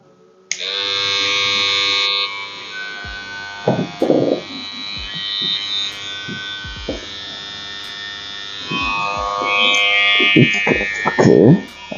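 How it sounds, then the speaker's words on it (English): A Babyliss hair trimmer switches on and runs with a steady, close electric buzz for most of the clip, its pitch shifting slightly partway through, while a person talks over it in bursts. "This is the trimmer"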